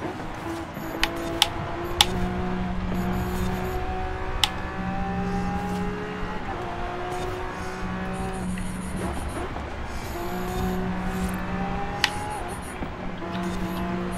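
Racing car engines in Forza Horizon 5, including a McLaren, rev and shift in a fast race, with whining, stepped engine tones, brief tire squeals and sharp bumps, as a player talks quietly over them.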